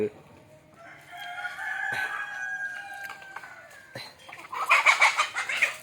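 Native chickens cluck nearby in a hillside coop while a rooster crows, and a burst of louder squawking rises toward the end.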